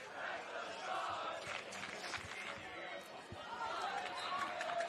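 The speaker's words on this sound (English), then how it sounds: "The crowd is definitely getting up and about" Spectators at a men's final gridiron football match, Northern All Stars versus Gridiron Queensland, cheering and chattering in a continuous, moderately distant crowd roar that swells slightly toward the end.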